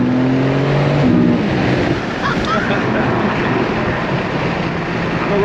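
BMW G80 M3 Competition engine while driving, a steady broadband road and engine roar with brief low harmonic tones early on, close and continuous throughout.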